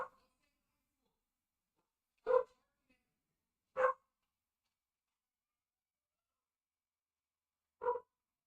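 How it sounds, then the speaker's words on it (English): Dogs bark in short separate bursts, four sharp single barks spaced a couple of seconds apart, fairly loud against an otherwise silent room. "Dogs go freaking nuts right now."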